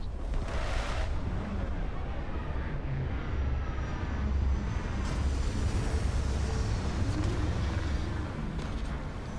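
A spaceship touching down in the video game Starfield, a loud, continuous low engine roar and rumble with a brief whooshing rise near the start, steady throughout with no voices.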